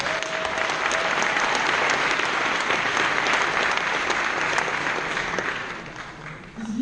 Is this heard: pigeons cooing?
no